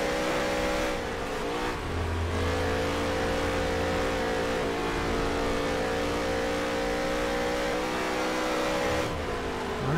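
Dirt-track race cars roaring around Eldora in NASCAR Heat 3, a loud sustained engine drone with shifting pitch as cars rev and jostle close together throughout.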